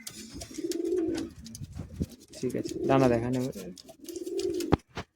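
A pair of red Giribaz pigeons coo in low, rolling bursts close by, several phrases rising and fading, interleaved with someone speaking between them.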